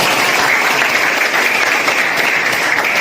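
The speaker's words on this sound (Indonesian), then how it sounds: "tepuk tangan" Steady, close applause from a chemistry class during a student-teacher lesson, an even wash of clapping with no pauses and no talk over it.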